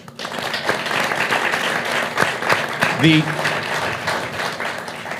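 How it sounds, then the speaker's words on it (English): Audience applause at a political event in South Texas honoring a senator, a dense steady wash of clapping running throughout at moderate loudness, with a brief tonal sound near the middle. "That deserves a round of applause."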